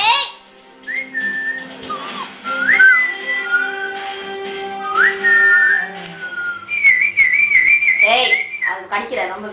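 A person whistles a wandering melody in several clear, fairly loud phrases with short pauses between them, with no talking alongside.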